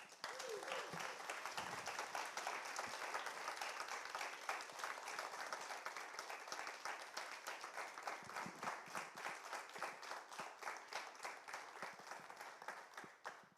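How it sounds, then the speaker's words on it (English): A TEDx event audience gives sustained, dense applause at the close, many hands clapping loudly and evenly throughout with no talking. "So let's have an applause for that."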